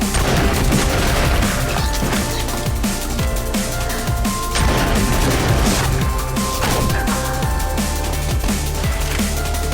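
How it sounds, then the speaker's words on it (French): Violent gunfire exchange in a film shootout, with repeated sharp shots bursting over a dense, continuous mix of music and effects throughout, loud and close. "Les deux échangent une fusillade violente."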